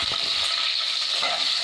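Garlic sizzles and spatters steadily in hot oil while being stirred for a prawn gravy, a loud, continuous close-up frying hiss with faint scraping throughout.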